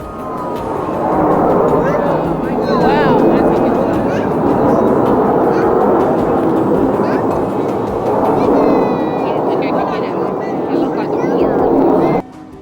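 Airplanes at an air show in the USA roar overhead in a loud, sustained rushing drone that swells and eases over several seconds, with a narrator talking across it.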